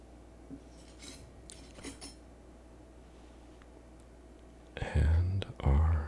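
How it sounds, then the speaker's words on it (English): A hand rummages for a teaspoon, with faint light metallic clinks early on and louder, close rattling handling near the end, under soft whispered talk in a quiet kitchen setting. "So let's grab our teaspoon"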